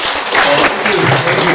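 Audience members at a fireside chat clap for a hospitality author; loud, close clapping through the short stretch, with voices mixed in.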